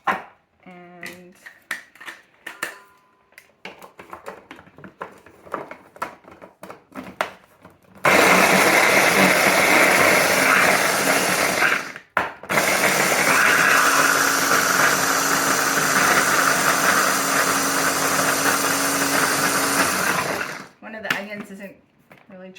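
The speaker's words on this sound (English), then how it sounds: "I'm going to throw my garlic into the food processor." Food processor chopping garlic for cabbage rolls, a loud steady whirring motor run of about twelve seconds, briefly cut out midway, with quieter kitchen clatter and handling sounds before and after.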